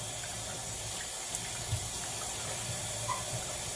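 Tap water runs steadily into a kitchen sink while collard greens are washed by hand, a soft continuous gush with faint splashes and handling noises, fairly quiet and without talk.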